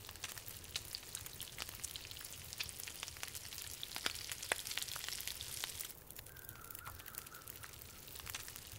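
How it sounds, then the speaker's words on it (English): Gamey meat frying in The Long Dark gives a faint, steady sizzle with soft crackles and pops running throughout, quiet and close, with no voices. "let's get this gamey meat cooked"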